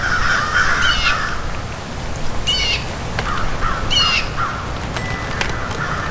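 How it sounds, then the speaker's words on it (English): Crows caw in several short bursts, mixed with other birds calling, loud and fairly close over a steady outdoor background. "But the birds aren't being shy. They're super happy. Super communicative"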